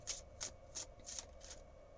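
Tarot cards from a Rider deck being drawn and handled, giving five quick papery riffling bursts at an even pace, close and soft against a quiet room.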